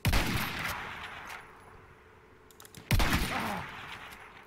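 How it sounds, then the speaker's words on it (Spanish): Gunfire in the Battlefield 1 video game: a sharp shot opens, then the sound decays into a quiet tail before a second loud crack near three seconds, with no talking. "¿Quién me está disparando?"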